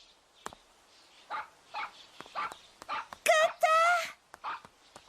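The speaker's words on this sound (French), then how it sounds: "Wanta, viens ici, mon chien." A dog in a French-dubbed episode of the anime Elfen Lied gives a couple of short, sharp yips or barks near the middle, set among scattered voices and soft background sound.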